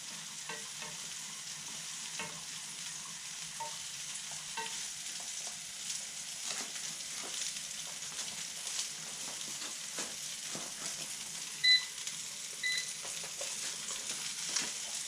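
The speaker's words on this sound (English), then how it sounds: "Heat the sauce, stirring it to keep the oil mixed in." An oily sauce is heated and stirred in a pan at a Roman cookery session, giving a steady close sizzle with frequent soft scraping and clicking strokes of the utensil throughout.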